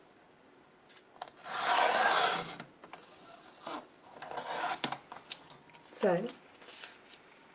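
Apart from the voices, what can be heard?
trimming the edge of paper sheets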